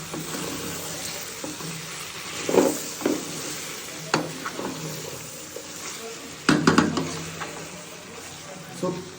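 Meat sizzles as it fries in a pan, with a spoon scraping and stirring in several distinct bursts over a low steady frying hiss.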